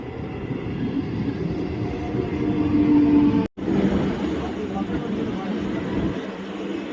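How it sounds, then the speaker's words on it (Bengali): A local train heads toward Howrah Junction with a steady, loud rumble of wheels and carriages that cuts out briefly partway through. Voices can be heard faintly beneath the running noise. "হাওড়া জংশন পর্যন্ত যাওয়ার এই ট্রেনটি পরবর্তী স্টেশন রামরাজাতলা"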